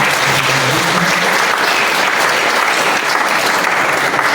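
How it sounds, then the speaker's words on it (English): Loud, dense applause from a training and teambuilding crowd, a continuous wash of many hands clapping at once, sustained evenly from start to finish. "let's give a round of applause to Kamili"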